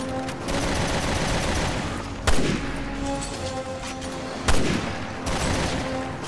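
Sniper rifle shots in Resident Evil Revelations 2, two sharp loud cracks spaced a couple of seconds apart, each with a short ringing tail, over steady game ambience and faint background noise.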